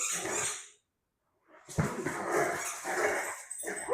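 A dog playing outdoors on slippery ground makes snuffling, whining and growly yips at close range, with a short silent gap, then busy excited noises.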